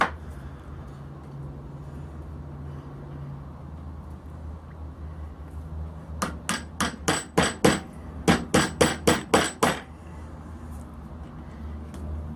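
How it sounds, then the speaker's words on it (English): Two quick bursts of sharp hammer blows driving a plastic wedge into a jeweler's hammer handle, about a dozen strikes in all, close and crisp over a low background hum. "Just hammer it down there, probably put the head back on."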